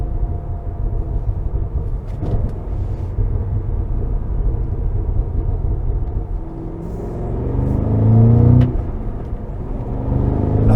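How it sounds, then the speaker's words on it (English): A 2023 Cadillac CT5-V Blackwing with a manual gearbox, engine rumbling at low revs and then blipping sharply during automatic rev-matched downshifts as it slows for a red light, the pitch rising and falling in short bursts at night. "That means we have to exercise the auto rev matching downshifts."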